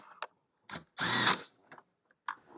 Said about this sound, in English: Tighten down these two bolts.